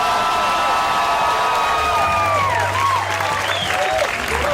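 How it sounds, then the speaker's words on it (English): An audience at a stand-up comedy show applauds and cheers in a loud, dense burst of clapping with whoops rising above it, while a voice talks faintly underneath. "One more time for Jeremiah, everybody."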